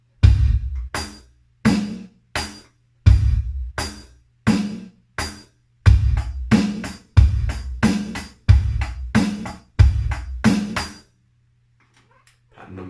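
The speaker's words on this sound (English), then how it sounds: "this is a classic rock drumming pattern" A drum kit plays a classic rock beat in short repeated bursts of kick, snare and cymbal, loud and close, with pauses between phrases before it falls silent near the end, and no talking.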